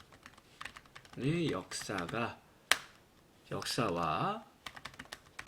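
Computer keyboard keys clack in short bursts of quick taps while someone types text into a Hangul word processor. A person speaks in Korean in between, and a single sharper key strike stands out.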